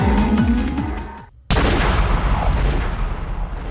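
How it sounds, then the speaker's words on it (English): A gun explodes in the video game Umineko: after music and a brief silence, a sudden loud blast hits and then a dense, roaring rumble continues to the end. "Then, there was a loud bang from the gun. Not in the sense that it fired, it exploded."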